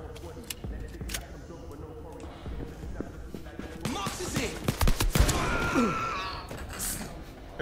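Gunfire from a weapon in the PSVR game Blood & Truth cracks out in sharp, irregular shots and quick bursts that grow denser toward the end, heard alongside a talking voice.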